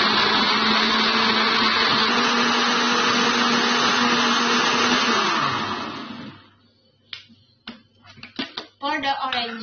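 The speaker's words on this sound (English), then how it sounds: "Put the orange into blender." A blender mixing orange, sugar and water whirs loudly and steadily for about six seconds, then winds down and stops, followed by a few clicks and knocks.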